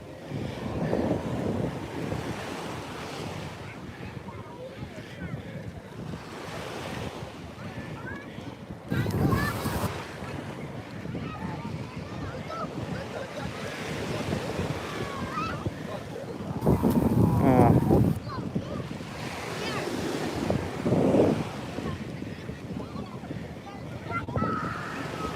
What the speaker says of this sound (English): Sound of the ocean, very peaceful.